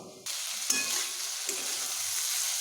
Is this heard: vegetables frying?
yes